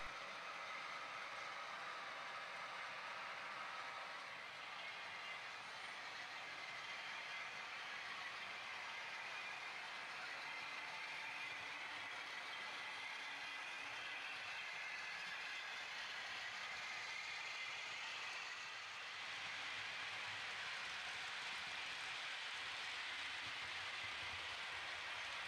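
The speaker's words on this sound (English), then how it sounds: "The midday express to Edinburgh pulls into the station to pick up passengers." The midday express to Edinburgh pulls into a station platform to pick up passengers, with a steady, faint broadband rumble and hiss of the train that holds evenly for the whole stretch, with no talking.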